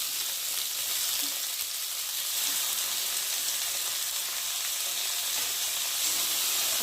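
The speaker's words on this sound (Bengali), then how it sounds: "এখন আমি কেটে রাখা আলুগুলোকে দিয়ে পেঁয়াজের সাথে একটু ভালো করে ভেজে নেব" Potatoes frying with onion and green chilli in a pan, a steady, dense sizzle that holds evenly throughout with no voices.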